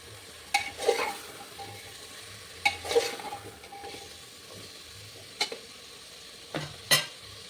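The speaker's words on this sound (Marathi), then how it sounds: "त्यानंतर भाज्या घालायच्या आहे. ह्या घालून घेतलेले आहे. त्याला व्यवस्थित परतून घ्यायचं आहे." Vegetables for pulao stirred and sautéed in a pan, with several distinct spatula scrapes and clinks against the pan over a faint steady sizzle, spaced irregularly and fairly quiet.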